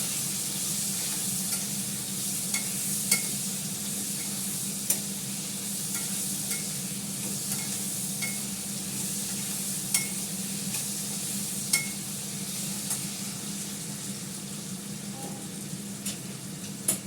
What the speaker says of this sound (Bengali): এটাকে ভালো করে ফ্রাই করবো, তাহলে আস্তে সেদ্ধ হয়ে যাবে